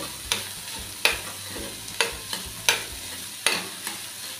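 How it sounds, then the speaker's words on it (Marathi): A vegetable momo filling with chopped coriander is stirred in a pan. About six sharp spatula scrapes fall at a steady rhythm over a faint sizzle, close by with no talking. "ती थोडीशी मिक्स करून घेऊ"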